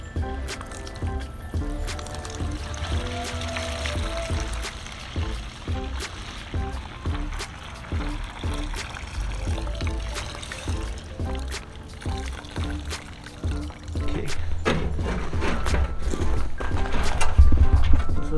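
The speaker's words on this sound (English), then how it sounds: "the degreaser was in the tank for a while, and now I'm going to pour it out" Degreaser is poured out of a rusty metal gas tank, sloshing and gurgling in uneven splashes with scattered metallic knocks. The flow grows louder and heavier toward the end.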